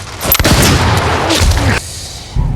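Gunfire from a duel scene in John Wick: Chapter 4, heavy booming shots with rumbling echoes, loud and dense, cutting off abruptly before another thud.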